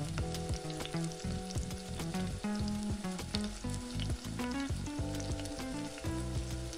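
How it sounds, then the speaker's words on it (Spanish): Rice sautés in a sofrito for arroz caldoso with fish and seafood: a loud, steady sizzle under busy, clattering stirring strokes close by. "El arroz lo vamos a incorporar para que pueda ir cogiendo sabor."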